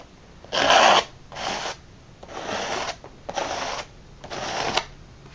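Excess paste being scraped off a stencil laid on canvas, heard as five separate rasping strokes of varying length with short pauses between them, close and fairly loud.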